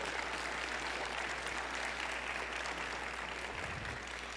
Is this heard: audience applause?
yes